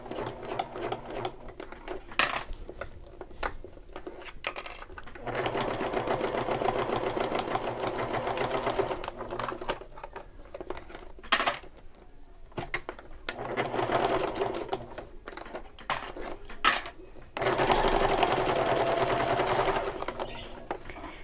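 Sewing machine top stitching a shoulder bag, running in several steady bursts of rapid mechanical clatter separated by short pauses, close and clear.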